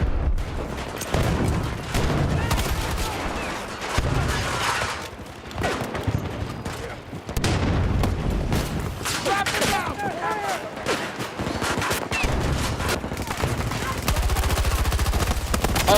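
Rapid bursts of video game gunfire and booming grenade explosions in a military shooter, dense and loud throughout, with brief pauses and a voice occasionally speaking over the battle.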